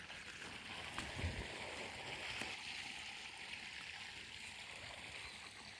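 Water from a farm pump motor pours steadily in a broad, continuous rushing wash that holds an even level throughout. A couple of faint knocks sound over it.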